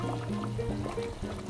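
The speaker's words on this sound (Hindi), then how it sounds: "तो 1 कप पानी मैं और ऐड करूँगी इसमें।" A cup of water poured into a cooking pot of simmering aloo gosht shorba, a soft steady trickle and splash close by over low kitchen hum, with no one speaking.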